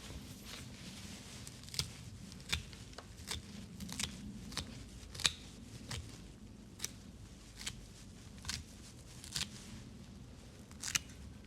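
Sharp scissors snip through the roots of a bonsai root ball in a quiet room, with separate crisp cuts coming roughly every second, close and clear, and no talking.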